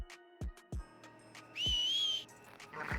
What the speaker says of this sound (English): you can wake them by whistling